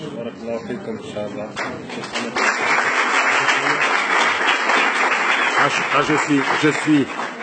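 An audience bursts into loud, sustained applause at a lecture on Islam and racism, swelling after a couple of seconds and holding steady, with someone speaking over the start.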